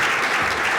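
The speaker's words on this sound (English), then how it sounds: "Let's give them a round of applause." A crowd at a university athletics hall of fame ceremony applauds honorees, with a brief, dense, continuous wash of clapping throughout.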